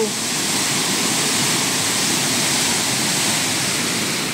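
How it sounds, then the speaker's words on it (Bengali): Water pours through the number 4 lock gate at Mukutmanipur, a loud, unbroken roaring rush of falling water that fills the whole scene without pause. "এখানে একটু জলের আওয়াজটা কিন্তু বেশি হচ্ছে, মানে এখান থেকে সম্ভবত জল বেশি পাস হচ্ছে"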